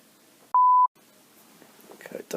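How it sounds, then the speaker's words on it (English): A phone emits a single steady electronic beep, clear and fairly loud, in the middle of a Yu-Gi-Oh card game tournament, followed by murmuring voices in the room. "Is that someone's phone?"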